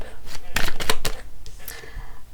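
A deck of oracle cards gets shuffled close by, a short burst of crisp riffling flutters followed by lighter slides and taps, with brief talk alongside.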